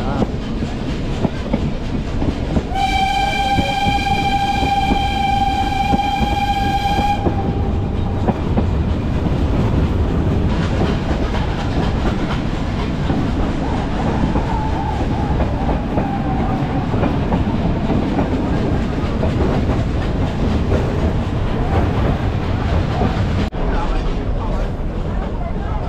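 A Nilgiri Mountain Railway toy train in Ooty rumbles along the track with steady clattering and deep rolling noise, a loud horn blaring early on, and voices talking at times.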